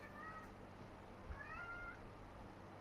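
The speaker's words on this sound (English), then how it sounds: "Oh, that's a cat." A house cat gives two short, quiet meows about a second apart, heard alone in a calm indoor room.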